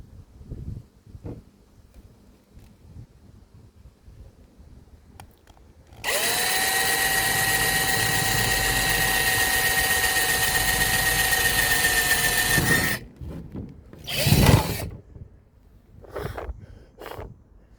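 A power drill whines steadily for several seconds while boring a hole through a motorhome door card, then stops, followed by a second short burst of drilling and a few light knocks and handling sounds.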